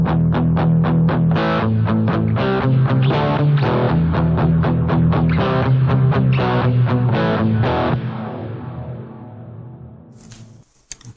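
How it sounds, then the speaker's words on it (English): An electric guitar runs through a Boss GT-1000 Terra Echo delay, strumming a rhythmic distorted pattern whose echoes smear and trail off into a fading wash before a few final scratchy noises. "That's such a cool delay."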